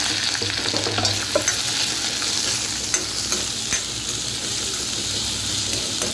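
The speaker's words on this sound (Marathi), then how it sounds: "कांदा परतून घ्या" Onion sautéing in oil for egg masala, a loud, dense, continuous sizzle with faint intermittent stirring scrapes, close by and unbroken by talk.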